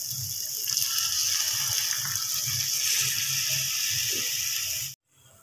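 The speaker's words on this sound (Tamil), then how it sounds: "நான் தண்ணி கொஞ்சம் ஆட் பண்ணிக்கிறேன், இது கொஞ்சம் ட்ரையாக இருக்குது." Water is poured into a kothu chapati mixture as it cooks, a close, steady splashing gush over a sizzling pan that stops abruptly near the end, with no talking.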